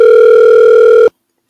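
A loud, steady telephone dial tone holds for about a second on a radio call-in show, then cuts off abruptly into silence.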